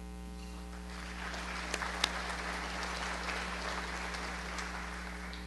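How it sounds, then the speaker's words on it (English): A room of people at a Tri-City Regional Chamber State of the Cities event applauds new chamber members, a dense, even wash of clapping lasting several seconds over a steady electrical hum. "Let's give our new members one more round of applause"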